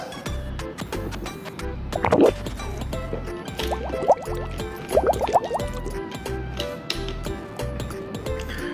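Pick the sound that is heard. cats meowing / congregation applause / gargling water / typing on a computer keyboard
gargling water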